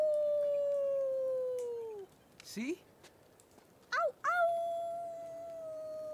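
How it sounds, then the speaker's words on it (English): Characters in the video game Life is Strange 2 howl like wolves: a long sustained falling howl, then several short rising yelps and another long howl, with a brief spoken word in between. "They're gonna freak out if they hear something responding to their howls."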